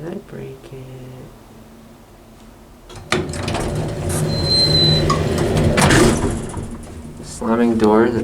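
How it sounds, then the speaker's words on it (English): An IECO hydraulic elevator door in a Burlingame, California office building rolls and thuds shut after a quiet start, followed by a loud rumbling run; a person speaks near the end. "Slamming door to top it all off."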